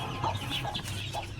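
A pet hen sitting on dummy eggs gives soft, scattered clucks, a few short murmured notes close by at low volume, with no talk over them.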